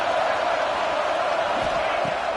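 Dense crowd roar fills a football stadium during a tense third-down defensive stand, steady and loud throughout with a few swelling shouts rising out of the din.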